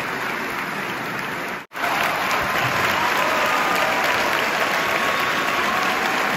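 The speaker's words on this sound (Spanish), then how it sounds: "Fuertes aplausos" Loud, dense audience applause fills a musical theater performance, sustained throughout with a brief dip partway before resuming at full strength.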